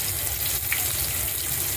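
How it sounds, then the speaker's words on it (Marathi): Fish frying in oil in a pan on a home stove, giving a steady, even sizzling hiss that runs close and fairly loud the whole time with no talking. "तर आता आपलं की मग मच्छी फ्राय करायला घेऊयात आपण"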